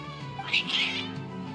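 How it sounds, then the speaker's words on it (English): Cats meowing inside the video game Genshin Impact, a short burst of bright, agitated cries over a steady music or ambient bed, fairly close and moderately loud. "Your cats seem pretty worked up."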